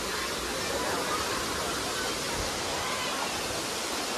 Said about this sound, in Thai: ข้างในนี่คือน้ำตก